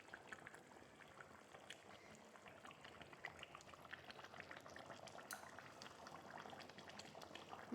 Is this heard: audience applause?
no